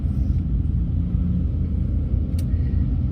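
Steady low engine rumble and road noise of a camper van driving along a road, continuous and close with no talking.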